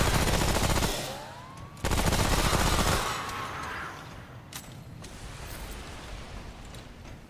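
Submachine gun fire in the video game Remnant, loud rapid bursts of automatic shots up front followed by a fainter rattle of distant shots and game ambience.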